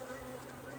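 Bees buzzing inside a hive built by a recently caught swarm, a soft, continuous droning hum that stays even and faint.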